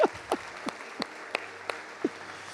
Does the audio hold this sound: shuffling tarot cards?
no